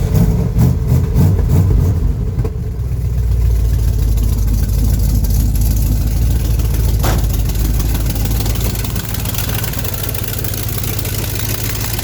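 An engine runs steadily right after a broken V-belt has been fixed, with a loud, even idle. Its low rumble holds constant for about twelve seconds after a brief rougher start.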